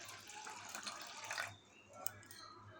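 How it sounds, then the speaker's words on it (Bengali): Cold water is poured into a lassi mixture, a brief, faint splashing trickle that fades within about a second and a half, followed by a quiet lull. "এরপর দিয়ে দেব ঠান্ডা ঠান্ডা জল।"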